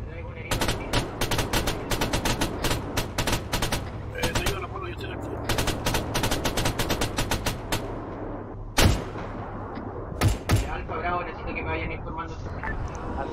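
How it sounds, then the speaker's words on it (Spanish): Automatic weapons fire in the military shooter game ArmA 3 comes in long rapid bursts, then a few heavier isolated shots, with voices talking over the gunfire. "Están abriendo fuego desde la base hacia el centro."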